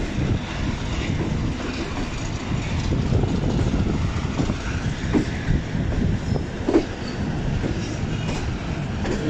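Kohat Express coach hauled by a Hitachi locomotive pulls away from platform 2 at Rawalpindi, a steady low rumble of rolling stock with faint wheel squeals and rail clatter throughout, no talking.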